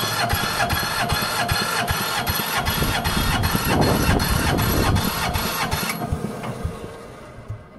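A stuck-piston Yanmar TF160 10kV diesel engine labouring under cranking, with a fast, regular mechanical knocking that runs loud and steady for about six seconds before dying away into a fainter, uneven tail.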